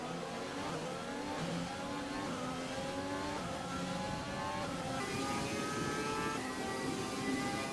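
A Ferrari-engined Formula 1 car in the F1 2020 racing game drones at high revs down a long straight, its engine note sustained and steadily climbing through the gears, loud and continuous with no talk.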